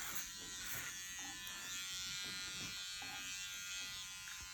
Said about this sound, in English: I'm gonna go around and keep going with the clipper over comb.